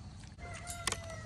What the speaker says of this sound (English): Did you hear that rooster?